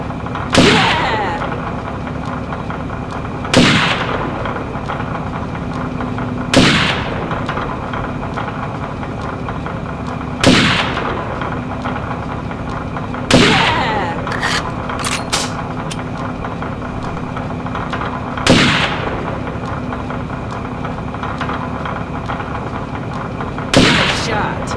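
Sniper rifle shots in a video game firing range: sharp, loud single reports repeating at roughly three-second intervals over a constant mechanical hum, each shot followed by a brief echoing tail.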